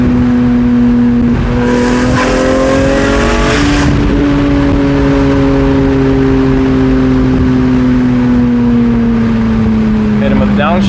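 A BMW E46 M3 with a Valvetronic exhaust revs hard, its loud engine pitch climbing and then dropping through a downshift before settling into a steady, slowly falling drone, very close and overpowering.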